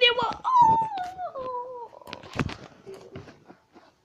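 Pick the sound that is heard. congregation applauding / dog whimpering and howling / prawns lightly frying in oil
dog whimpering and howling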